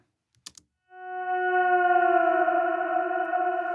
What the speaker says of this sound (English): when one of these whale sounds come in, I really want it to echo out synchronous to the rhythm and the music